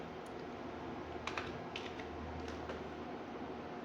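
Soft, quick keystrokes tap on a computer keyboard in irregular clusters while a resume is written, faint and close in a quiet room with a low hum beneath.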